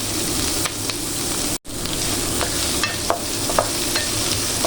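Garlic frying in a pan for pork chops in tomato sauce crackles with a loud, steady sizzle, while a utensil scrapes and taps through it in scattered strokes, with one brief dropout.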